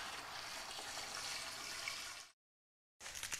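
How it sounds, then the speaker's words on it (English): Tap water runs into a wine kit fermenting container, a steady close hiss of pouring that stops abruptly, then resumes after a short silence. "Now I'm gonna top it up with a little bit of tap water."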